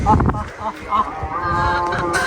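Chickens and ducks calling together in a farmyard while being fed torn-up bread, with overlapping clucks and honking calls close by and a person talking over them.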